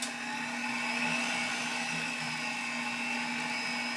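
A Cuisinart stand mixer kneads pizza dough at speed 2, a steady motorized whine and hum that holds an even pitch, close and continuous, with no voices.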